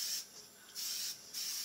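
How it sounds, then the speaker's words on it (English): Three short hissing bursts of butter-flavored cooking spray into a springform pan, close and soft, separated by brief pauses. "I'm going to spray the edges and the bottom"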